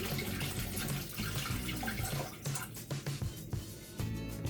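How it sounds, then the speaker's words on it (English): Coconut water poured from its container into a mixed drink at a home bar, a steady close liquid splash and trickle running through most of the moment with slight gurgles, no talking. "Coconut water. I'm just gonna put the whole thing in."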